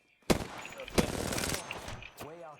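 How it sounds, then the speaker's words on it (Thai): Two sharp gunshot bursts in the video game Apex Legends ring out with echoing tails, and a voice speaks briefly near the end. "เฮ้ยมันยิงพี่วะเพื่อนอยู่ไหน"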